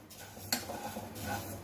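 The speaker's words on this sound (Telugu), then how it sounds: "ధనియాలు చక్కగా వాసన వచ్చేదాకా, కొంచెం కలర్ మారేదాకా వేయించుకోవాలండి" Dry coriander seeds roasting in an oil-free pan, scraped and stirred with a metal utensil. A sharp clink stands out amid soft rattling and scraping that continues close by without voices.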